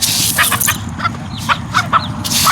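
Chickens cluck and call near the microphone in a rice-field setting in Thailand. Their short, repeated bursts overlap one another above a steady, rough background noise.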